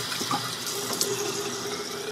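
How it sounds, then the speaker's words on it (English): A running tap pours steadily into a sink while water is splashed onto a face, giving a continuous close rush with small splashes and no talking. "So I just simply splash water on my face."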